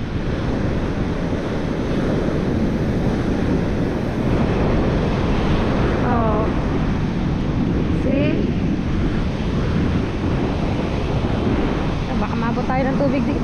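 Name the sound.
sea waves at the beach resort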